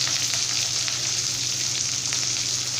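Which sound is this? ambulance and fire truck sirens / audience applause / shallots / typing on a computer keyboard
shallots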